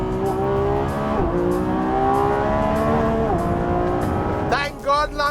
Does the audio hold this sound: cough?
no